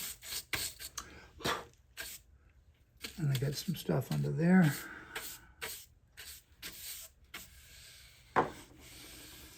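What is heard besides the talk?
sanding a carved wooden guitar top brace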